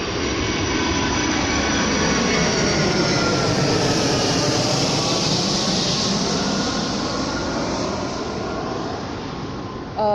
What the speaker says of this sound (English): I forgot that this place has a lot of airplanes passing by.